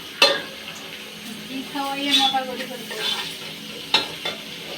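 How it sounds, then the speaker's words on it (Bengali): Vegetables and fried rice cook at the same time on two stoves, with a close sizzling hiss under bursts of stirring and a few sharp utensil clinks against the pans. "দুই চুলাতেই কিন্তু রান্না চলছে হ্যাঁ?"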